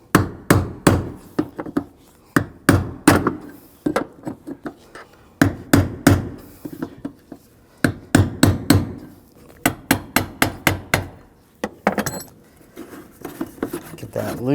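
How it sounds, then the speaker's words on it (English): A brass punch struck with a hammer to loosen the fuel pump lock ring on a 2007-2013 BMW 328i 3.0L inline-six: a long series of sharp metallic taps, some in quick pairs and bursts with brief pauses, close and loud. "Now using a brass punch so we don't create any sparks."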